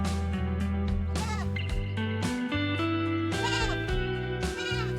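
Goats bleating repeatedly at a rural village home during rain, loud and close, with several overlapping cries in quick succession over a steady background.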